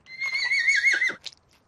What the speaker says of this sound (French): On voit la tête du bébé cheval!